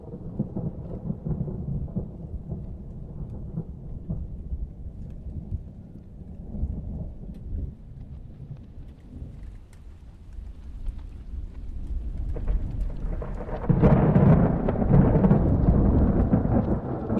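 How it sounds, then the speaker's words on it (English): Distant thunder rolls in long, low rumbles over steady rainfall, swelling louder toward the end as the rainstorm intensifies, with no voices present. "then he hears the sounds of distant thunder"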